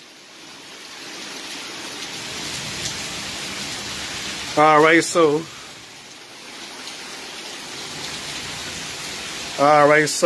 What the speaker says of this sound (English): since it's thundering and lightning and stuff like that, raining and stuff